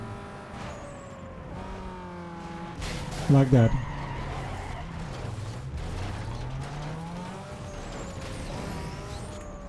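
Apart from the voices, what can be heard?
race car engine and skidding, Need for Speed: Underground 2 video game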